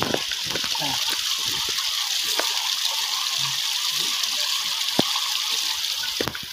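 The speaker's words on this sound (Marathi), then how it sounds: "Pure water flow." Clean water gushes and flows steadily in a misty outdoor spot, a loud constant rushing wash with small splashes and a couple of sharp knocks, without speech.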